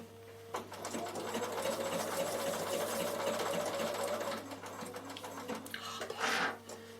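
Sewing machine stitching a wool felt door draught stopper, a steady close mechanical whir with rapid needle clatter running for several seconds, then slowing and stopping.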